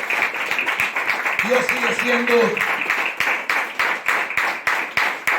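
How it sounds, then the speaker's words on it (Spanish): A church congregation claps together in a quick, steady rhythm through a Spanish-language service, the claps sitting under a loud voice that speaks over them throughout. "Denle un aplauso fuerte al Señor, mi hermano"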